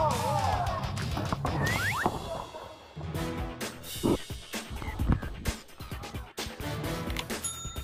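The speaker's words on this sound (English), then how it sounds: "Smash them pumpkins!" Pumpkins get smashed in a messy squash-pit competition on a television game show, with repeated thuds and splattering crashes amid clattering, bell-like dings and busy background commotion.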